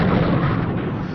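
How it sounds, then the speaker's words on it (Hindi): A loud, dense roar of a massive blast in an anime movie fills the whole clip, rumbling and crackling without letup. "और हुआ एक बहुत बड़ा धमाका।"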